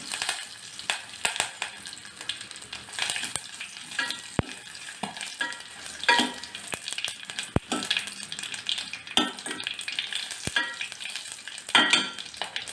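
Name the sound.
tempering curry leaves, dry red chillies and asafoetida frying in oil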